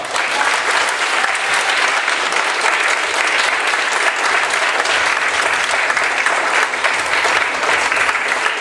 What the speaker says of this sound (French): Et on les applaudit très fort.